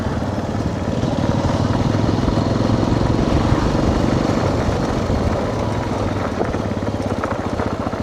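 A Bajaj Pulsar NS200 motorcycle ridden along a road, its engine droning steadily and loudly from start to finish, with a rumbling low tone and wind buffeting throughout.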